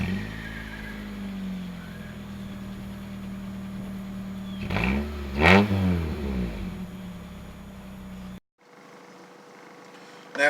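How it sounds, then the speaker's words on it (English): A Honda Accord CB7 engine runs nearby, idling steadily before one sharp rev rises and falls around the middle, then returning to idle until the sound cuts off abruptly near the end. "Now, as you guys see, this car runs."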